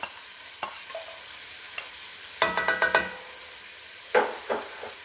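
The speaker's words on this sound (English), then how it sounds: "now our carrots and celery, add that in there." Chopped carrots and celery dropped into a hot soup pot for split pea soup, a few light taps and scrapes, then a burst of crackling sizzle and a second louder sizzle as more goes in.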